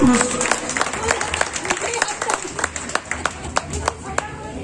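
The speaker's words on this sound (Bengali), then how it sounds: "জোরে একটা হাততালি হোক ওনার ওঠার জন্য" Members of an audience at a committee honouring event applaud with steady, moderately loud clapping throughout, individual sharp claps standing out near the end, while people talk underneath.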